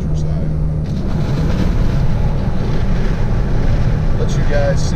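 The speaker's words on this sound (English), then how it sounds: "A bit of wind blowing towards that passenger window" Wind roars and buffets steadily through the open passenger windows of a moving Toyota Tacoma, a loud, constant low rumble that fills the whole cab.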